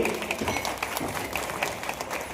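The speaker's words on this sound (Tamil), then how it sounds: "நன்றி கரகோஷம் எழுப்பி" A crowd claps steadily, dense and continuous applause filling the space at moderate volume, with no break.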